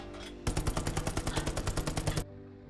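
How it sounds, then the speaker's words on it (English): A tank's coaxial machine gun in the video game Hell Let Loose fires one loud, steady burst of about fifteen rapid shots lasting nearly two seconds, then cuts off abruptly, with no talk. "You can also use your coaxial machine gun."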